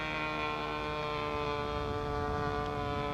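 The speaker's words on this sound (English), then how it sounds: "I just think that's how the motor sounds." A small model airplane motor spins with a steady high-pitched whine and constant buzzing drone, unbroken and fairly close, with no voices.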